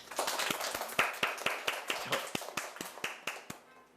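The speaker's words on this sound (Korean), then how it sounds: "그래서 본인들에게 박수 한번 쳐주세요." An audience at a Korean lecture show claps together, a fairly close, steady run of sharp hand claps lasting several seconds and thinning out at the end.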